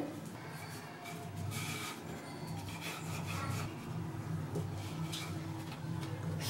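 Small balls of onion samosa dough are rolled thin on a chapati stone, making a continuous rubbing and scraping sound in repeated strokes, close and moderately loud over a low background hum.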